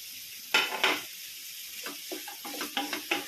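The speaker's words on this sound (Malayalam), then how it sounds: "ബ്രൊക്കോളി ഇട്ട് കൊടുക്കാം. എല്ലാം ഒരുമിച്ചിട്ട് ഒന്ന് വഴറ്റിയെടുക്കാം." Broccoli, green chilli and other vegetables tossed together in a hot pan, with a soft background sizzle and several close, bright scraping stirs, two near the start and a quicker run later, no talking.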